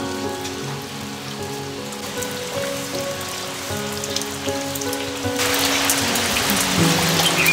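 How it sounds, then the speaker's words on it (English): Steady rain pattering on a surface in the Himalayas at Rishikesh, a continuous hiss that grows louder and denser toward the end, with no voices. "It's raining."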